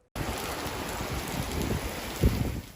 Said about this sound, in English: Heavy downpour and thunderstorms.